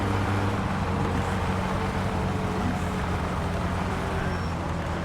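Car engine in the video game My Summer Car running with an odd, uneven tone, a steady loud low rumble that holds for the whole stretch without break.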